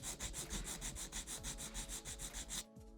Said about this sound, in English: I hold my file straight up and down, hold my fingernail securely, go straight across